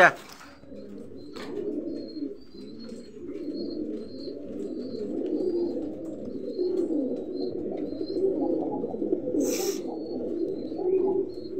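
Pigeons kept in pairs with eggs and chicks, cooing in low repeated throaty bursts close by, with a few thin chirps and a brief flutter of wings.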